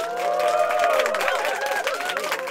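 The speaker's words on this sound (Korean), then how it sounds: "동료들이 환호하며 마타이를 꼭 껴안아 주었다" Colleagues cheering and applauding in celebration, a lively crowd of overlapping voices and clapping that swells and stays dense, with tonal cries rising above the steady wash.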